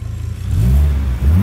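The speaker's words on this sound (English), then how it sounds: "Let's give it a little rev first though." An ex-police Volvo T5 car engine revs up from idle in a single quick blip, a loud close rising growl that settles back, with no talking.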